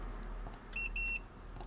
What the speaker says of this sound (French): Le bip a retenti, donc ça veut dire que le boîtier est bien paramétré.